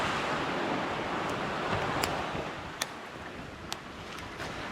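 Waves on the Dingle shore rolling in as a soft, steady wash with wind across the microphone, fairly faint, broken by a few sharp clicks and snaps.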